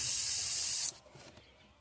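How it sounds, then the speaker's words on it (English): A paint spray gun loaded with shaken, reducer-thinned paint gives a loud, close, steady hiss for nearly a second before cutting off abruptly, leaving a faint trailing hiss. "we'll get it to spraying out our gun real good."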